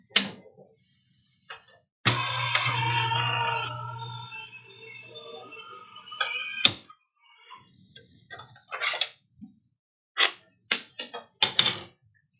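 Die-cutting machine being cranked to feed a single cutting plate through card paper, a loud grinding mechanical run for about two seconds followed by scattered clicks and clacks of handling, close up with no talking.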